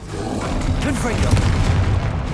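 A Confringo spell explosion in the video game Hogwarts Legacy sets off a deep rumbling boom that swells and roars for a couple of seconds at steady loudness, with a rolling low-end body throughout.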